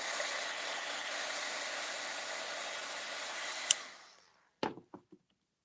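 A hair dryer blows steadily on a freshly painted mason jar for DIY fall decor, a loud even whoosh that winds down and cuts off, followed by a few short sharp knocks.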